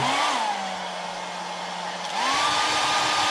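A hair dryer runs close up, blowing air to dry paint on a wood carving. Its loud, steady whir dips in pitch partway through, then rises again as the airflow shifts.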